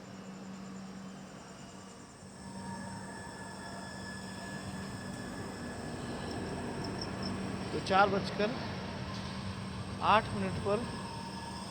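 Kashi Vishwanath Express pulling out of Lohta railway station, a steady low rumble of the moving train with two brief bursts of wheel squeal near the end, under a voice.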